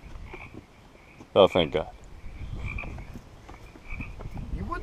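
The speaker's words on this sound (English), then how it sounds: "Frogs just frogging." Frogs croaking around a burnt-down house, a steady chorus of low grating croaks in the background under a short loud exclamation from a man, with outdoor ambience throughout.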